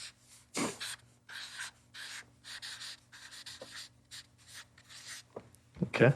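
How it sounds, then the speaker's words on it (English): A pen writes a place name in large letters on paper, close and quiet: bursts of scratchy strokes separated by short pauses, with a few soft knocks and rustles. "you're going to jot down the name of this place, nice and big"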